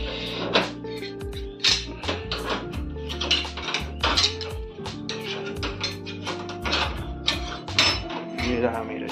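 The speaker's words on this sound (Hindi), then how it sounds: "ये रहा मेरा छोलनी जो भुन जाएगा, जीरा इसको भुन देना है दोस्तों" Cumin seeds roasting in a pan, stirred with a spatula, giving repeated metallic scrapes and clinks of utensil on cookware at close range, with a steady sizzle underneath and no talk over the scraping.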